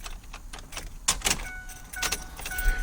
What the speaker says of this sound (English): we're going to insert the key and turn the ignition to the run position